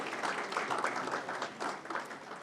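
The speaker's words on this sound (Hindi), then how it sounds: "जोरदार तालियां हमारे second runner-up के लिए।" An audience applauds a runner-up at an India awards ceremony, a dense, even wash of many hands clapping at moderate loudness.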